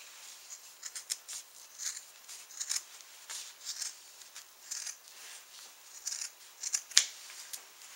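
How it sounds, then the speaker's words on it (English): Scissors snip through fabric in a quiet room, a run of short crisp cuts coming in irregular bursts at close range, with no voices. "You take your scissors and you go down till you got about 2 inches that's not cut."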